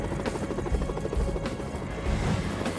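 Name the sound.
helicopter in a video game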